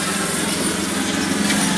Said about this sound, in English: Sorry again about the lawnmower there